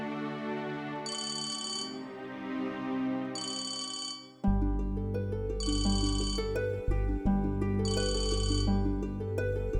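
A telephone rings in repeated bursts of a bright electronic ringtone, two rings heard alone and two more over a sudden, louder musical backing in a household scene.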